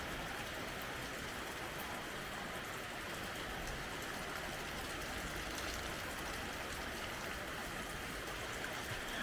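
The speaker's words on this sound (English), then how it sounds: "the sun disappeared and it decided to rain again" Steady rain falling in an African village, a continuous even hiss of drops on surfaces with no break or voices, moderately quiet and constant throughout.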